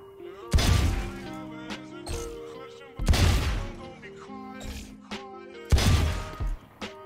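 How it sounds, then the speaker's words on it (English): Three sharp Sheriff pistol shots in a first-person shooter aim-training range, each a loud close crack with a ringing metallic tail, spaced about two and a half seconds apart with softer clicks between. "So we're gonna use the sheriff, click on start, and then just aim at their heads and shoot"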